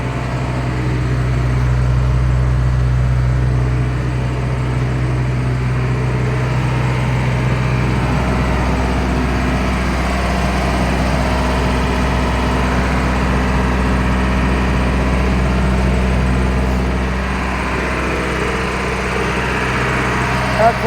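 An Eicher 1095 pickup truck's engine idles with a deep, steady diesel rumble, close and loud, running evenly throughout with someone talking over it.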